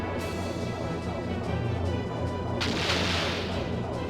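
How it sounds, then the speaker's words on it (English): Ship cannon and torpedo fire in the Skies of Arcadia video game, a dense continuous roar of booming blasts with a bright burst of noise near the end, loud and close, no talking. "let's just throw in our secondary cannon, a torpedo"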